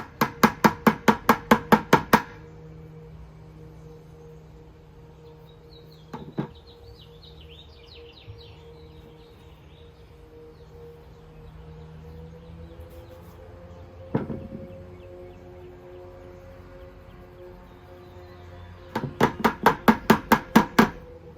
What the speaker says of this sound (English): see if we can get this mix to go through the strainer into this bucket